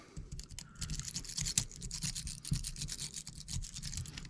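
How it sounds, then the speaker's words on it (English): A rake pick scrubs back and forth inside a dimple lock held under a tension wrench, a soft close-up scratching and rasping with quick irregular strokes. "Let's get the rake in there, put the tension wrench in"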